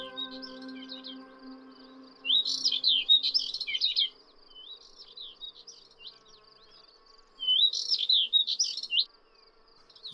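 Two bursts of bright, twittering warbler and lark song ring out over a quiet, faintly humming background, with softer scattered chirps between them.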